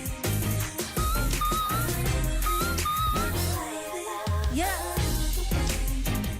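A singer sings high, thin whistle-register notes in short sustained phrases while performing a song live over a loud, full band backing, with a few sliding pitch runs.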